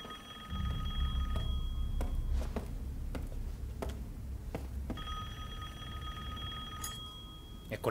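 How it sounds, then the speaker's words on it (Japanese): Telephone bell rings in a room with a typewriter in the survival-horror game Resident Evil Village, sounding in two bursts of repeated ringing over a low ambient game drone, with occasional faint clicks between. "電話が鳴ってる。"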